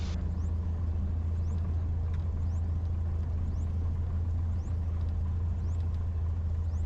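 A light aircraft engine idles while taxiing at an airport at night, a low, steady rumbling drone close by, with a faint intermittent high chirping above it.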